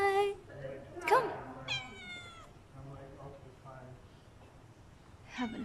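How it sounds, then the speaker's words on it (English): Stray cats of breed type meow close by, several high, drawn-out cries coming one after another, with quieter background sounds in between. "Mga stray cat sila dito, pero mga breed."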